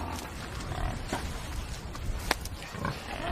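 Pigs grunt and snort on a farm, several rough low grunts and squeals scattered through a busy, close-up stretch, no clear talk.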